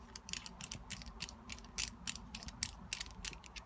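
Threaded fittings on an oil cooler hose being undone by hand, giving quiet, close clicking and ratcheting ticks in an uneven run, with no talk.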